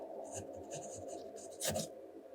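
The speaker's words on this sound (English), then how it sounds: "The last writing sample is done on 20-pound copy paper." A Lamy fountain pen with an extra fine nib, inked with Lamy Turmaline, scratches across 20-pound copy paper in quiet, rhythmic strokes, soft rasping scribbles with a brief louder scrape near the end.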